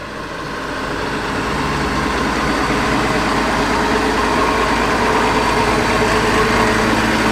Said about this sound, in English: Let's watch the fast track go past this great little international harvester and the Fordson Power Major